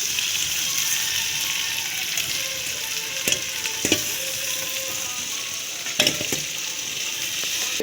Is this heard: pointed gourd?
yes